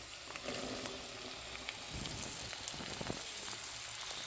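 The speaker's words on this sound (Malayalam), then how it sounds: "അതിലേക്ക് നമ്മൾ വെന്ത് വെച്ചിരിക്കുന്ന നമ്മുടെ പയർ ചേർത്ത് കൊടുത്ത് നന്നായിട്ട് ഇളക്കിയെടുക്കാം" Steady sizzling of boiled red cowpeas frying in a pan, with occasional scraping and stirring noises, no voices present.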